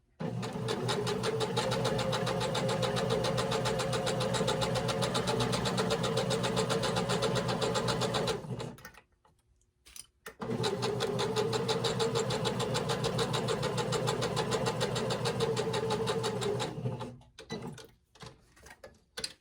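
A sewing machine stitches a reversible fabric napkin ring in two long, fast, even runs, with a short pause between them for turning the corner and a brief stop near the end.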